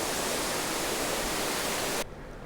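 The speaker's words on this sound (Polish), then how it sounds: "Wodospad Oshin-Koshin jeszcze cały nie zamarzł." The partly frozen Oshin-Koshin waterfall in Hokkaido gives a loud, steady roar of falling water, a dense hiss that cuts off abruptly near the end, leaving only faint background noise.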